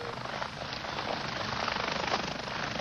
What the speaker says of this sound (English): he was met by a University Air Care helicopter